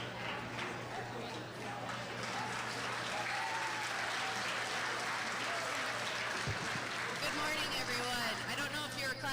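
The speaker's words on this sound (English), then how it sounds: "Clapping for me or for Tate?" Audience at a middle school eighth grade recognition ceremony claps steadily throughout, a dense, sustained wash of applause with a faint low hum underneath and some murmuring voices mixed in.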